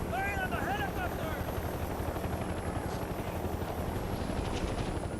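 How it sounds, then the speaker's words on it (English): Helicopter in the video game Mercenaries 2: a loud, continuous rotor thrum and engine roar that carries on steadily, with voices heard over it early on. "Fire on the helicopter!"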